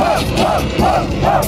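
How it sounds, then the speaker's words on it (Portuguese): Rap battle crowd at a Red Bull qualifier final in Brazil, shouting and roaring continuously in rolling, rhythmic swells, loud and dense throughout. "Deixa a plateia gritar"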